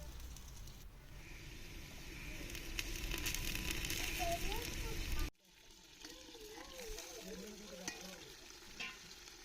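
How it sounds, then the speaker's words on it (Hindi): Chicken sizzles and fries in a pan with onions, salt and spices for a traditional Pakistani chicken salan. A loud, steady sizzle cuts off abruptly midway, then the frying continues more quietly under a voice. "चिकन के साथ ही मैंने इसमें नमक शामिल कर दिया और फिर 5-6 मिनट तक इसको अच्छी तरह से मैंने फ्राई कर लिया"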